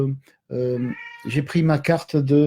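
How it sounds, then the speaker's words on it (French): A cat meows a few times close by, asking to be let out, mixed in with a person speaking French. "Attendez, je vais ouvrir au chat 2 secondes"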